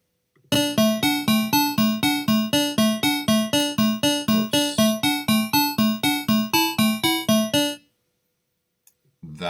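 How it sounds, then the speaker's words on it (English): Frogger-style video game intro jingle plays during loading: a loud, rapid run of evenly spaced electronic beeps with bright buzzy harmonics for about seven seconds, then it cuts off and a faint click follows. "That's just the sound the intro makes when you're loading the game."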